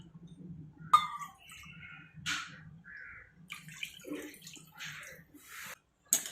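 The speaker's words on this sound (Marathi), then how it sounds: "1 वाटी बेसन पीठ घेतलं होतं, तर 2 वाटी आपण पाणी घेणार आहोत।" Water is poured into a pan holding chickpea flour for patvadi: quiet, close splashing and trickling in short, uneven bursts with brief pauses between pours.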